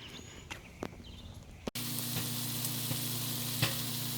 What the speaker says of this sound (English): Got some steaks going today again.